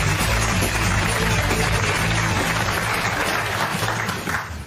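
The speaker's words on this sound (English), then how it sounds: "Give him a round of applause." Dense studio audience applause on a British TV talk show, a loud continuous crackle of many hands clapping with no voices, tapering slightly toward the end.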